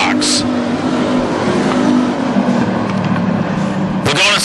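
WISSOTA street stock race cars roar around the oval at Ogilvie Raceway in a loud, steady engine drone, with a nearer car sweeping past toward the end and an announcer talking over it.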